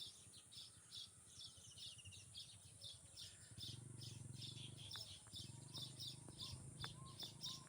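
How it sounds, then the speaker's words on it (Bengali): Birds nesting in a palm tree chirp in quick, repeated twitters, faint and somewhat distant over a low, steady rumble. "সেই পাখিতে কিচিরমিচির করে ডাকতেছে, ডাকগুলো খুবই সুন্দর লাগতেছে। পাখির ডাক।"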